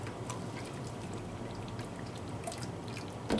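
Lye water pours into a clay-blended soap batter for a lemon swirl soap, a soft, steady liquid splash lasting a few seconds.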